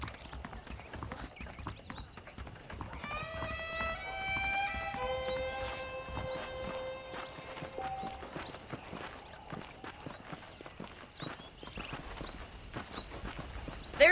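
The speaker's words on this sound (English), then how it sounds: "The horses are saddled up over here." Horse hooves clip-clop in a steady walking rhythm in the video game Red Dead Redemption Remastered, running throughout, with a brief layered musical tone in the middle and faint ambient sounds.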